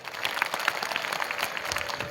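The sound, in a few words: applause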